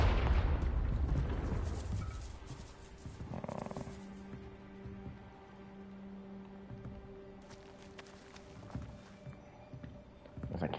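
A Confringo fire spell explodes in Hogwarts Legacy, a loud booming blast right at the start that rumbles and fades, followed by quieter footsteps and game ambience with a few faint thumps.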